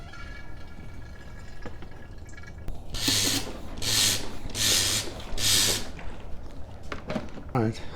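Rusty fluid from a 1981 Corvette pumped out and draining in several hissing, splashing bursts, each a second or so long, close by.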